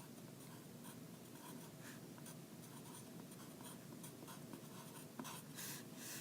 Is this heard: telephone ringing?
no